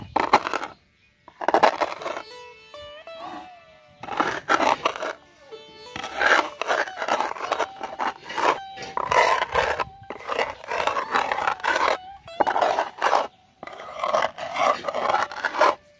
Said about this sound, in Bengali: আমি এটা ভালো করে গুঁড়ো করে দিচ্ছি যাতে পানির সাথে মিক্স হয়